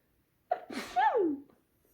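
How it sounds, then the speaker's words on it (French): A single sharp sneeze with a quick intake of breath, then a loud, close burst that trails off, in otherwise quiet surroundings. "Je vais éternuer."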